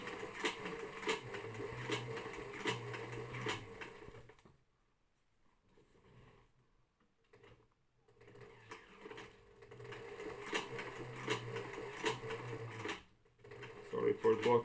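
A sewing machine stitches flat plate rigging in fast continuous runs, stopping for a few quiet seconds mid-way before starting again, with a voice talking over parts of it.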